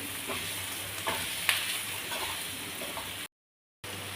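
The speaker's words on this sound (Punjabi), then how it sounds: "ਇਹਨੂੰ ਥੋੜਾ ਜਿਹਾ ਆਪਾਂ ਹਿਲਾ ਲਾਂਗੇ ਇਹਦੇ ਨਾਲ ਕਲਰ ਬਹੁਤ ਸੋਹਣਾ ਆਉਂਦਾਗਾ ਜੇ ਆਪਾਂ ਇੱਕ ਸਕਿੰਟ ਲਈ ਮਿਰਚ ਨੂੰ ਪਹਿਲਾਂ ਪਾ ਦਈਏ" Red chili being stirred into hot oil in a pan for Punjabi-style potato and onion kadhi, a steady close sizzle and frying hiss with light spoon scrapes, brief cut to silence near the end.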